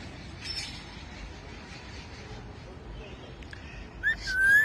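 A pet parrot gives a bright, rising whistle, loud and close, at the very end, following a stretch of faint background noise and muffled voices.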